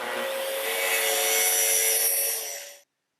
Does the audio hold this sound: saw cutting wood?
yes